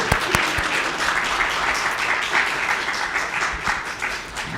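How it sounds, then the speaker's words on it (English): A church congregation claps for new members joining during a live-streamed service, a dense steady wash of applause from many hands lasting several seconds. "another round of applause for these new members joining the congregation"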